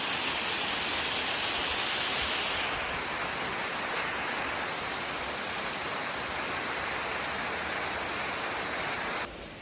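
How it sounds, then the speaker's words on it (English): Waterfall roaring in a Washington forest, a steady, loud broadband rush of falling water that fills the whole clip without pause, with no voices over it. "I went off trail to get a better look at this waterfall"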